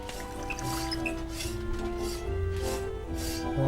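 Water runs from a tap in a video game, a steady close trickle with soft drips and splashes that carry on throughout under faint ambient music.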